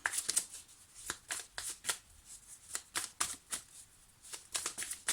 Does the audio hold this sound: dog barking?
no